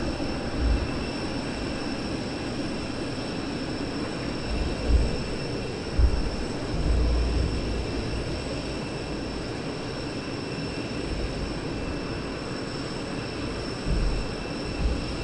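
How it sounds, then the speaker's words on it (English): Eurofighter Typhoon jets depart from Southend Airport, a sustained distant engine rumble with occasional low thumps and gusts of wind, continuous and fairly even with no voices. "Typhoons leave."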